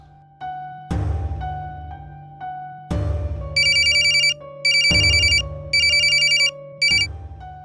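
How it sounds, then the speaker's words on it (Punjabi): A telephone rings during a call: a steady repeating ringback tone pattern, then bursts of a bright electronic ringtone alternating with it, loud and close with no talk. "ਨੀਟੇ ਨੂੰ ਫੋਨ ਕਰਦਾ।"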